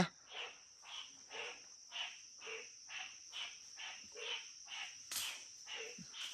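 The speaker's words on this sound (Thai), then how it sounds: "เสียงกบ" Frogs croak at night in a steady, evenly spaced series of about a dozen calls under a constant high insect drone, fairly faint and without any voices.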